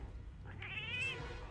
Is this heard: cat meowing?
yes